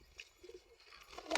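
Pigeons coo softly nearby, with a brief low throaty coo in the middle and faint rustling around it, all at low volume.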